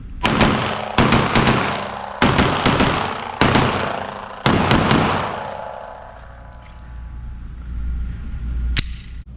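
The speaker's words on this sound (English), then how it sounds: "I'm gonna shoot just a little bit with it." Pistol fitted with a Trijicon SRO open emitter optic fired five times at steady intervals, loud sharp close shots with ringing decay, then a quieter outdoor tail and one faint distant click.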